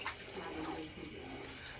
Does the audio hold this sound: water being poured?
yes